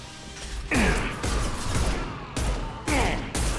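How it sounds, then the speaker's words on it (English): Gunfire in the Mass Effect 2 video game comes as a few loud bursts separated by short gaps, each burst sharp at onset and ringing into the next over a rumbling combat backdrop. "Taking some fire, Shepard."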